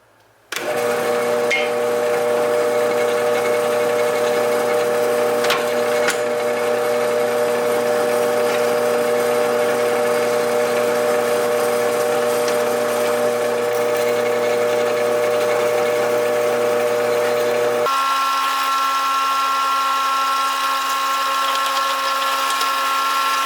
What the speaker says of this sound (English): I'm gonna clamp the blade to the material and drill my 1/4 inch holes